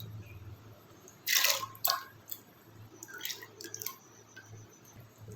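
Soaked chana dal tipped into a pot of water, a couple of close splashing pours followed by softer drips and small watery movements, fairly quiet overall.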